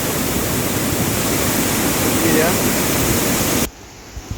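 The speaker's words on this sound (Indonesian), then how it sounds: "melimpas dia ke sungai seperti spillway" Water overflowing a weir spillway back into a river makes a loud, continuous broadband roar that cuts off abruptly near the end, with a brief spoken voice over it.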